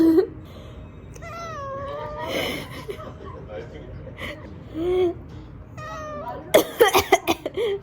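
A cat gives several short, whiny meows, mixed with coughing and breathy sounds close by, ending in a quick burst of noisy huffs.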